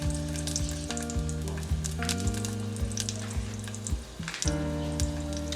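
Garlic and scallion fry in hot oil with a steady, close sizzle that runs throughout, while rhythmic backing music plays underneath.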